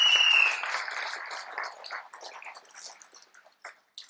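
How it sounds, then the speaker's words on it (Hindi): Applause from an audience at a morning gathering in Bihar, a burst of dense clapping that starts loud and thins out over a few seconds into scattered claps. "जोरदार तालियां आप सभी के लिए।"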